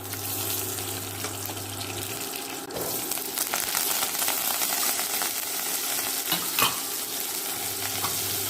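Mustard seeds and urad dal sizzle and crackle steadily in hot sesame oil for a Tamil brinjal gravy tempering, with occasional stirring clinks and a low hum, no voices.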